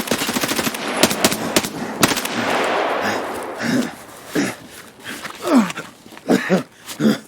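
Rapid automatic gunfire in the video game Escape from Tarkov, loud bursts crackling for the first few seconds, then a couple of separate shots while someone talks excitedly over the action.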